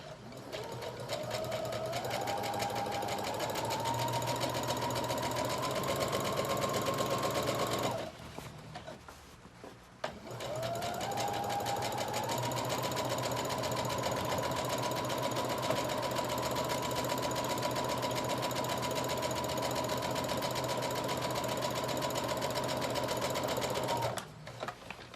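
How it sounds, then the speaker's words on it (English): A sewing machine runs a gathering stitch on a jacket with a steady, fast mechanical whir, stopping briefly partway through before resuming the same even hum until a stop near the end. "I am going to do another gathering stitch 1/4 of the way from the one I just did."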